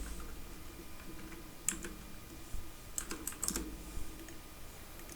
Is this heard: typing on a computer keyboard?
yes